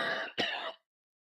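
A man coughs or clears his throat twice in quick succession, close and fairly loud, with no speech, then silence.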